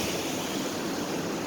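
Spring-fed creek water draining through rocks and spilling into a waterfall in a canyon at Splitrock City Park, a dense, constant rushing hiss with no talking.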